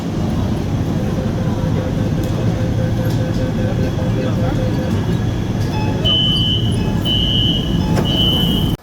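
A Shenzhen metro train hums and rumbles steadily inside the carriage, loud and continuous, with faint tonal whines and beeps rising near the end.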